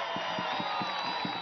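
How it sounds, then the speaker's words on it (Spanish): A rally crowd in Plaza Caracas cheers and applauds, a dense steady roar of voices with faint rhythmic thumps underneath. "con un fuerte aplauso a nuestro primer vicepresidente del partido, Diosdado Cabello Rondón"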